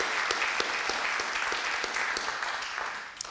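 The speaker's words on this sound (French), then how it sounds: "on peut l'applaudir" An audience at a talk on teaching pupils with special needs applauds, a dense steady clapping that holds for a few seconds without speech.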